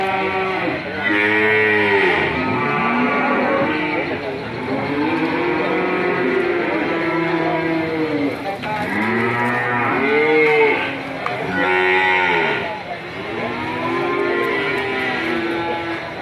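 Beef cattle, including cows, low repeatedly in long, drawn-out moos, several overlapping animals calling close by in steady succession with little pause between calls.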